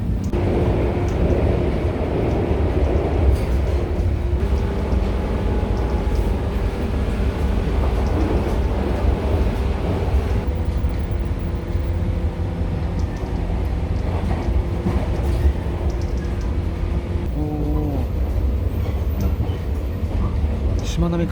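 Steady rumble of a Japanese train bound for Mihara rolling along the rails, with low mechanical hum and occasional clunks, heard from inside the carriage.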